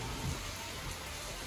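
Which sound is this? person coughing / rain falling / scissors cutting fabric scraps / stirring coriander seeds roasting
rain falling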